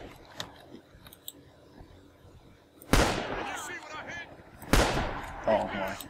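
Two loud, close gunshots ring out in the World War II shooter Red Orchestra 2 during the Battle of Guadalcanal, each followed by a long, echoing tail, after a quieter stretch of faint battlefield noise.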